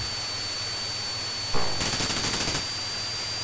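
Rapid machine-gun fire in the flight combat game Chuck Yeager's Air Combat, a single burst of about a second made of evenly spaced rattling shots over a constant electronic hum and hiss.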